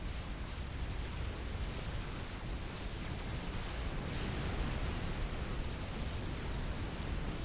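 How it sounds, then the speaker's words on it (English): Artillery volleys exploding in the strategy game Supreme Commander, a dense continuous roar of overlapping blasts and rumbling impacts that stays loud and steady throughout. "But these artillery volleys still coming in just one direction."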